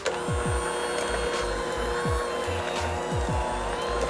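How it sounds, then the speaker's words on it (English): An electric hand mixer whirs steadily at close range while beating French toast batter, with a continuous motor drone and repeated low thumps and scrapes as the beaters knock against the bowl. "Now our mixer."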